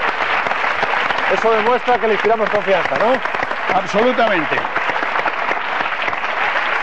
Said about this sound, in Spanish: Un aplauso porque se ha quitado las gafas aquí